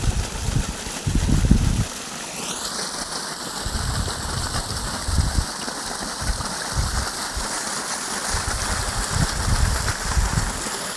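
Two water pump motors run on a farm while water gushes out in a steady rushing flow, a rising mechanical whine settling into a constant tone, with intermittent low thumps and splashes underneath.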